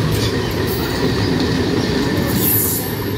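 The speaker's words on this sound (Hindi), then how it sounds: "आप Howrah Memari local is moving towards Bandel railway" Howrah-Memari local train running toward Bandel railway junction in Hooghly, loud and close, with rumbling wheels, rhythmic clickety-clack over rail joints and brief high wheel squeals.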